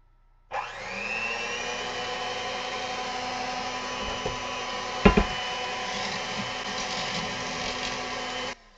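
A Sunbeam Mixmaster electric mixer switches on and runs with a steady motor whine and hum, with a couple of brief knocks and rattles partway through, before cutting off.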